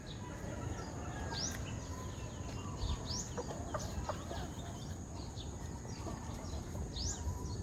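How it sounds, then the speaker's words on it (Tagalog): Backyard hens cluck in scattered short calls over a steady outdoor hiss, several birds nearby with occasional sharper notes. "Ito yung special ni nanay na manok."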